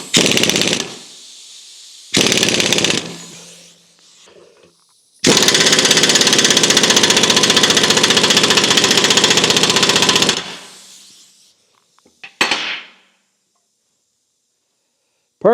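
An impact wrench hammers on the pinion nut of a Dana 44 rear axle in a Scout restoration. It fires in loud, harsh bursts, one long rattling run of several seconds among shorter ones, close and with no talk.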